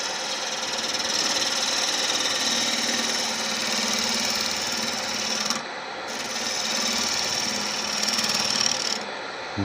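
A lathe gouge makes a finishing cut on a Malaysian acacia wood vase with a big knot, giving a steady, loud rasping hiss that runs continuously, dips briefly once midway, then resumes. No talking.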